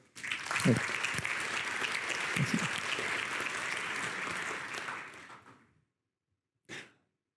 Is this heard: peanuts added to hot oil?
no